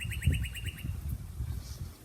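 A squeaky duck toy gives a quick burst of about six rapid high squeaks near the start, then fades into faint low background noise.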